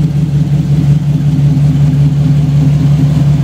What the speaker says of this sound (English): That's what I love about the modern engines. It just start up, sit there and idle,